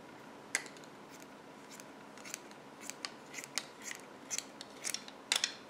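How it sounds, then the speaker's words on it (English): Embroidery scissors snip through crochet yarn for an amigurumi alpaca, a series of close, crisp cuts at an irregular pace, quiet and without talking. "So just take your embroidery scissors and just take and trim down the center."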